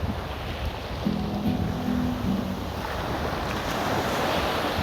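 Wind and choppy water surround a windsurfer out on the sea, a steady broadband rush with gusty microphone buffeting. A faint low tone hums for a second or so in the middle.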